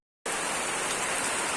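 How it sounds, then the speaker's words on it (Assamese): Heavy rain pours down steadily in a muddy outdoor setting in Assam, a dense, even hiss of drops that starts abruptly and stays loud throughout, with no voices. "বাপ্পাৰে বহুত বৰষুণ দিছে"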